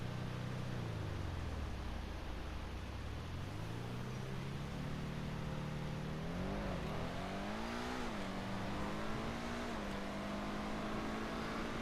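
Benefactor SM722 sports car in GTA 5 Online, its engine droning steadily and rising in pitch as it accelerates and shifts through gears, loud and continuous throughout with no talking.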